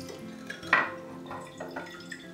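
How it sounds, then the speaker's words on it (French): Sprouting lentil seeds are rinsed with water in a pottery sprouter, giving a soft wash of water with a clink of ceramic and a few quieter splashes and drips. "On rince les lentilles qui étaient dans l'eau."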